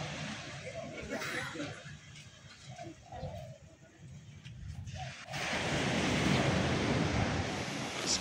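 Waves wash in at Kedonganan beach in Bali under an overcast sky, a steady surf roar with wind buffeting the microphone, swelling louder and fuller in the second half, with faint voices and birds.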